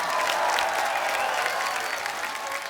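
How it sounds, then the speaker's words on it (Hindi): Studio audience at a televised Hindi comedy show breaks into steady, loud applause, dense clapping sustained evenly throughout with no voices over it. "जोरदार तालियां।"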